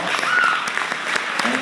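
Brief burst of audience applause for mayoral candidates at a forum, with sharp claps and a voice briefly audible over the clapping.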